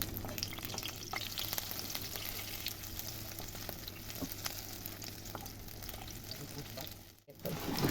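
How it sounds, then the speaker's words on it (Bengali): Batter-coated eggplant slices fry in hot oil with a steady, even crackling sizzle that holds throughout, briefly dipping near the end before returning. "তাহলে চলুন এবার ব্যাটারে বেগুনগুলো ফেলবো আর ভাজা শুরু হবে।"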